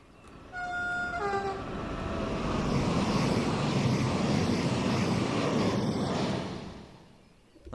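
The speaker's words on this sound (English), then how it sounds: "Want to get a flyby shot and a nice flyby shot." BR 193 Vectron electric locomotive on the Semmeringbahn in Train Sim World 4 sounds several short horn blasts, then a loud passing rumble swells, holds and fades away.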